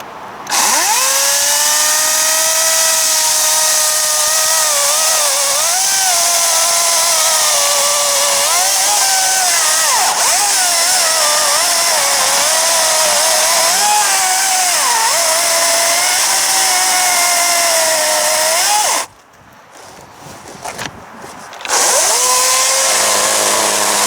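A 60V battery-powered chainsaw cuts through oak, a loud continuous high motor whine that bends in pitch as the chain bites, then drops briefly to near idle before revving again.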